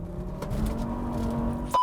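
A tuned car making 269 horsepower accelerates, its engine giving a loud, close, rising drone for under two seconds before cutting off abruptly.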